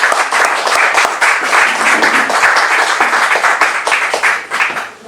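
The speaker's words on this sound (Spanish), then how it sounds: "Bienvenidos todos, nuevamente un fuerte aplauso" An audience at a book presentation in Huehuetenango gives a loud round of applause, dense overlapping claps sustained for several seconds before easing off at the end.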